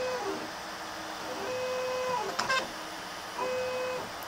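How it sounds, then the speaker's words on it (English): A 3D printer lays down its first print, its stepper motors singing steady tones that shift pitch from move to move, with a brief burst of quick whirring partway through; fairly quiet and close, with no voices. "It is printing."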